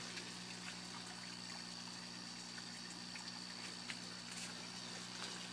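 Aquaponics water pumps run at a buried trout tank, a steady hum alongside continuous trickling, splashing water that holds evenly the whole time at moderate distance.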